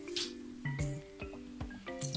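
Gram-flour bajji batter for stuffed mirchi bajji being mixed by hand as water is added, giving wet, sticky squishes and drippy slaps in an uneven rhythm, close and fairly quiet, with a steady faint hum behind.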